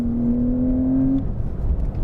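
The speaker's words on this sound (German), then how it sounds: "Typischer Porsche-Sound haben wir trotzdem, trotz Turboaufladung." A turbocharged Porsche 911 Carrera (992) engine hums steadily at a high idle, holding a droning tone before it drops away into a low rumble.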